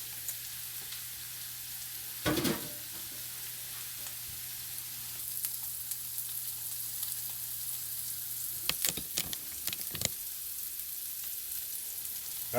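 Ingredients sizzling and caramelizing in a hot pan, pre-cooked for Southern-style baked beans, a steady frying hiss broken by a few sharp clatters of stirring around the start and near the end.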